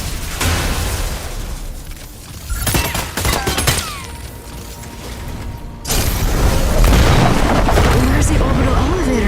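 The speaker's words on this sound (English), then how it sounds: "You may also use Gauss cannons to attack. Gauss cannons' powerful impact can immobilize the target." Gauss cannon fire and heavy impacts in the Mecha BREAK video game: booming blasts, mechanical clanks and whirring bursts, loud and irregular, with a voice speaking at times.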